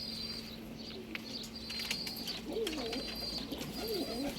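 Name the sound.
birds cooing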